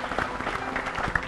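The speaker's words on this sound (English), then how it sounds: "Let's give them a big round of applause and welcome them" Audience applause greets the winning team being welcomed onstage at a season two challenge finale, a steady patter of many hands at moderate loudness, continuous across the moment.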